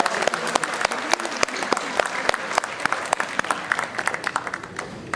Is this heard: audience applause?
yes